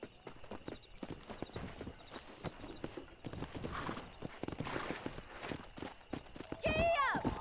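A horse gallops in the video game Red Dead Redemption, its rapid, steady hoofbeats running close throughout. A short whinny-like cry sounds near the end, and a voice is faintly heard.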